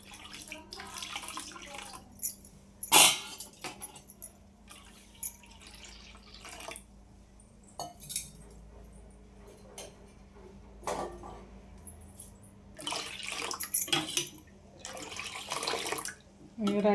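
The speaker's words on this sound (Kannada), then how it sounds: "ನೋಡಿ ನೀರು ಹಾಕ್ಕೊಂತೀನಿ ಸ್ವಲ್ಪ." Water from a tap runs and splashes into strained curd in a kitchen, in several separate pours and trickles with quiet gaps between them, and a person talks over parts of it.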